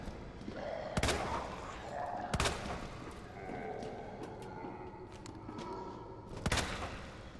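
Three separate gunshots ring out in Resident Evil 2, fired in a level involving Leon and a crocodile. Each sharp crack is well spaced from the others, over a quiet, murky ambient background.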